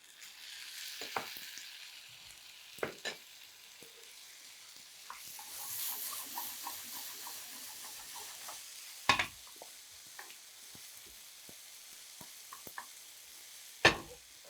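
Tomatoes fry in a pan for a Chettinad paneer dish, a steady soft sizzle running throughout with a few sharp clinks of a spoon stirring against the pan.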